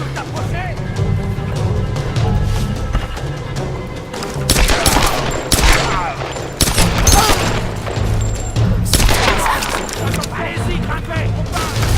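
Gunfire in the video game Tomb Raider, with bursts of close, sharp shots and booms clustered in the middle and later parts over a rumbling low backdrop, while characters shout and talk throughout.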